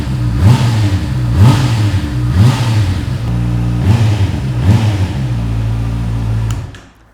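A 2019 Honda CB650R motorcycle engine revving hard several times in a row, a loud, close, high-pitched exhaust note rising and falling rhythmically, then dropping away at the end.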